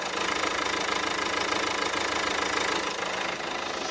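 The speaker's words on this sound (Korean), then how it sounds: "엔진 소음 먼저 들려드리면은" A diesel SUV engine idles steadily, a constant chugging rumble with a fine rhythmic knock, close and unbroken for the whole stretch.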